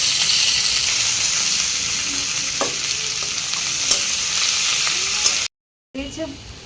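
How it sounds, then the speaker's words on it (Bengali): Chopped onion frying in a pan for an old-style karko fish and makhana curry, a loud steady sizzle with occasional stirring scrapes, cut by a brief dropout near the end. "কুচি করে রাখা পেঁয়াজ দিয়ে দেব"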